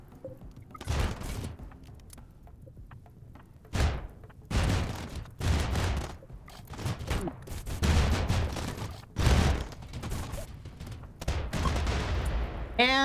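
Tanks fire during a RimWorld battle, making repeated bursts of game gunfire and booming shots of uneven loudness, separated by short gaps across about thirteen seconds.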